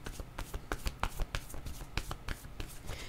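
Oracle cards being shuffled by hand in quick, close, crisp riffling bursts, no voice over them.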